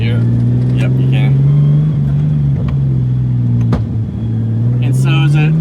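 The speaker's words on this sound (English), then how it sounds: "It has got a bit of a whine, and I think it's the thrust bearing" A Nissan R32 with a high-flowed turbo idles and revs with a steady tonal whine, suspected to come from a worn thrust bearing, humming continuously under close engine rumble while people talk over it.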